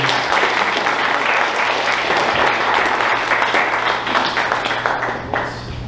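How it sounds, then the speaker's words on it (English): An audience at an investor talk gives a round of applause, loud sustained clapping from many hands that continues for several seconds before gradually tapering off. "So let's give them a round of applause."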